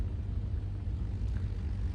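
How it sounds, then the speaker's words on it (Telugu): A low, steady tractor engine rumble drones on without a break, heavy and continuous, as it ploughs a paddy field nearby; no one speaks. "ఒక సైడ్ ట్రాక్టర్ దున్నుతుంది."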